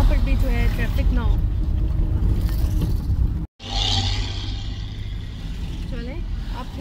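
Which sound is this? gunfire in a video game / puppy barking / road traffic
road traffic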